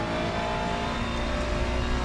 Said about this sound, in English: the way you hear the engine screaming off the walls